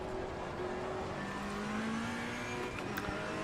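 Ferrari 488 GT3 Evo race car engine in Assetto Corsa Competizione at Zandvoort, a steady loud drone with rising and falling rev tones held throughout, no talk.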